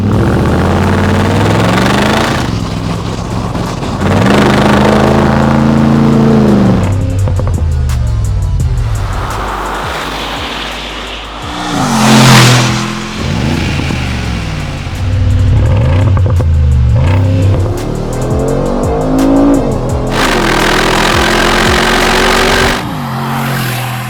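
A 2020 Mercedes-AMG G63 with a modified straight-pipe exhaust revs loudly and repeatedly up close, the rising and falling engine sweeps broken by brief idling lulls and clattery pops.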